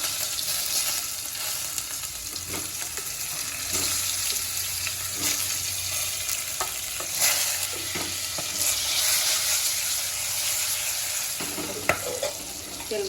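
Stuffed brinjals fry in hot oil inside a pressure cooker after a tempering of mustard and cumin seeds, giving a steady close sizzle with occasional stirring scrapes and clinks throughout.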